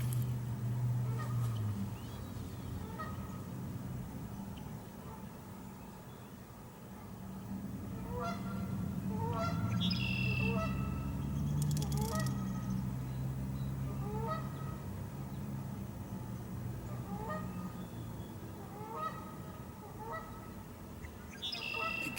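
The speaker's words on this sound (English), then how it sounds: "The geese are complaining a little bit." Geese honking by the water at a fly fishing spot, repeated nasal calls in loose bursts over a low steady background, moderately close and fairly quiet.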